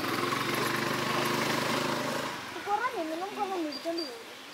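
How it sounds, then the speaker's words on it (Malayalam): A houseboat motor on the Kuttanad backwaters drones steadily and loud for about two seconds, then falls away as voices and gliding bird-like calls take over. "ഒരു ഹൗസ് ബോട്ട്"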